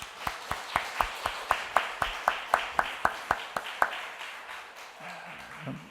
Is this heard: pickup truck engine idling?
no